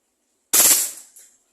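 A Glock 26 airsoft gas pistol fires in full auto as one short, loud, rapid burst of cracking shots, then a brief trailing clack, heard alone with no voices.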